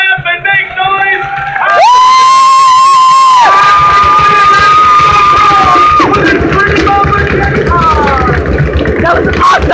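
A large crowd cheers, whoops and shouts loudly for a jet car driver at a live jet car event, with a high, sustained tonal whine running through the noisy roar.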